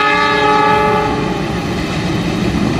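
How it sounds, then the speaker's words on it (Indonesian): KA Cikuray passenger train crossing the Cimanuk bridge, with a loud sustained horn blast over the rumble and clatter of the rail cars, close by. "KA Cikuray. Sebentar lagi akan melintas di jembatan Cimanuk."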